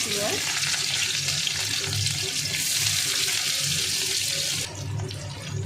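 Onions and green chillies fry in hot oil in a kadai, a steady, close, hissing sizzle that carries on throughout and softens slightly near the end.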